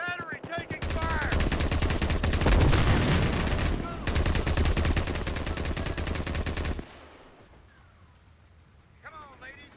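Gunfire at an artillery battery in Company of Heroes, heard as loud, dense machine-gun bursts and rifle fire that sweep over several seconds and then drop away into quieter ambience with brief voice-like chatter.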